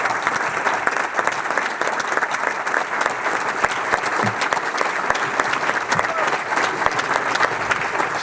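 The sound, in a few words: applause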